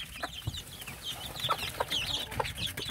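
Nine native Korean chicks peck busily at cooked rice, giving soft, quick clucks and cheeps at close range over a quiet background.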